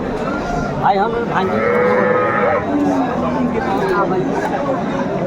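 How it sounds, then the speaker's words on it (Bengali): A cow lets out a drawn-out moo amid the busy chatter of a crowd and other livestock nearby at a cattle market in Aftabganj, Dinajpur, where cows and calves are being sold. "চমৎকার গাভি বাছুর আমরা দেখছিলাম এখানে"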